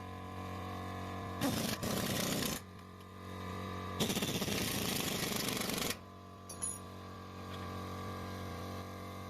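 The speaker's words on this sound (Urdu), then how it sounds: "اب اس کا جو بال جوائنٹ ہے اس کے بولٹ لگا رہے ہیں۔" Power tool bursts while fitting ball joint bolts during installation of Fox 2.0 reservoir shocks on a Toyota Vigo: three loud, harsh rattling runs of about a second or two each, separated by quieter workshop background.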